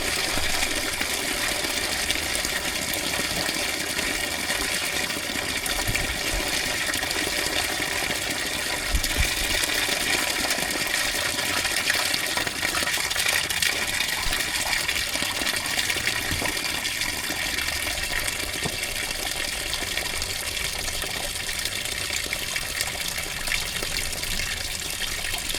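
Fluid drains steadily out of an old 1940s CAT D8 dozer that has sat unused for decades, making a continuous splashing, gushing pour that holds at an even level throughout with no talk.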